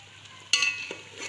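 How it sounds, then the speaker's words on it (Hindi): Masala for a beef kofta curry hits a hot pan with a sudden sharp sizzle after a quiet moment, then keeps up a low frying hiss as it is stirred. "इस मसाले को हमने भून लेना है।"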